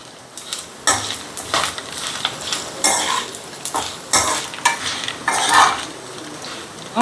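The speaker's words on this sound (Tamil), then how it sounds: "இப்போ இதை போட்டு அப்படியே கிண்டி வேண்டியதான்" Anchovies with turmeric and salt fry in a pan while a utensil stirs and scrapes through them in repeated clanking strokes over a soft sizzle, close and fairly loud.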